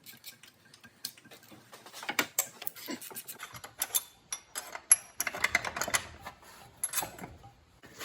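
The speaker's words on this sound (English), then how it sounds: "And so now we'll get these three bolts out of the way." Loose metallic clinks, scrapes and taps of bolts being worked free during engine removal on a 2000 Ford Ranger with the 4.0 engine, close up and irregular, with brief pauses between bursts.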